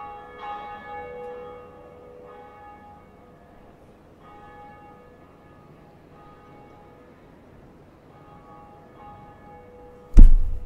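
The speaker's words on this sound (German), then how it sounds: "Und somit haben wir schon mal eine von zwei Glocken geläutet." A church bell rings in the dark fantasy video game Dark Souls, a single struck tone with a long, slowly fading resonant hum and quieter rings trailing after it, before a sudden loud thunk near the end.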